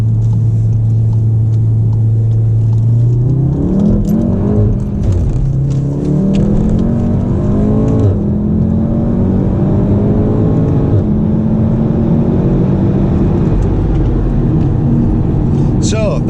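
A Volkswagen Golf R accelerates hard at night from a roundabout, its loud engine note rising through the revs with a deep rumble, a brief shift dip, then continued strong pull, while someone talks over it.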